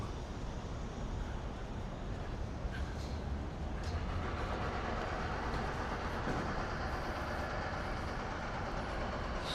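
A train rolls along the Chuo Line tracks in Tokyo, a steady low rumble with faint rail clatter heard from the street.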